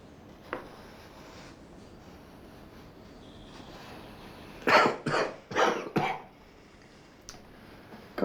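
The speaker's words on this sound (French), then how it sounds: "Comment arrêter cette toux?" Repeated dry coughs from an elderly man in a quiet room, a burst of four or five close, loud hacks in quick succession with a faint earlier catch and a soft final one.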